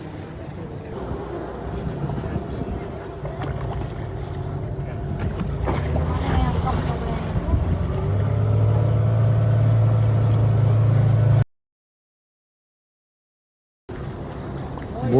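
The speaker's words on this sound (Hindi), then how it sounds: "boat ride to paradise beach" Boat ride across the sea to Paradise Beach in Gokarna, with a loud steady engine drone, rushing wind buffeting the microphone and splashing water, briefly cutting out before resuming.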